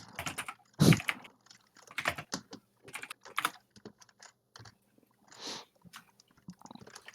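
Rapid keyboard typing during a League of Legends match, quick uneven bursts of clicking keys with short pauses, close and fairly loud, with no talking over it.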